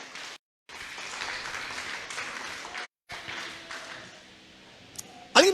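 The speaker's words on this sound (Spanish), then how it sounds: "¿Quiere darle un aplauso al Señor en esta hora?" Applause for the Lord from a church congregation, a steady crowd of clapping broken by two brief cut-outs, thinning toward the end before a sharp ringing tone cuts in.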